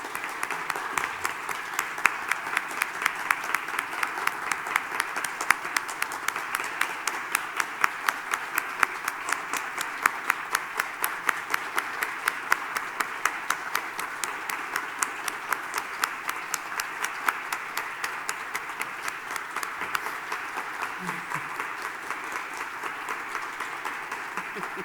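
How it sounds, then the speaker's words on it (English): An audience applauds Peter Erickson at a scholarly tribute gathering, with steady, dense clapping sustained at an even level from start to finish. "a round of applause for Peter Erickson."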